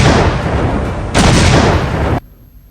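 Heavy blasts from Indian shelling on Pakistan: two loud, dense roaring bursts back to back, each sustained about a second, then cutting off sharply to near silence.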